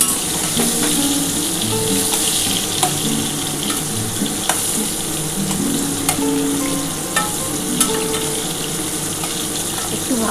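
Potatoes frying in hot oil in a pan for a chicken curry made with goat fat, a dense continuous sizzle close up, broken by occasional sharp clicks and scrapes of stirring.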